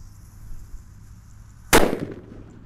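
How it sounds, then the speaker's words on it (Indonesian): A single sharp bang from a mercon petir firecracker bursts out after a quiet stretch, its crack fading quickly into a short rumbling tail. "Kita lihat seperti apa ini suaranya mercon petir"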